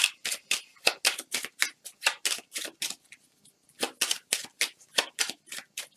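Tarot cards shuffled in rapid bursts of crisp riffling slaps, a steady run of sharp papery clicks with a short pause midway, close and fairly loud with no voices.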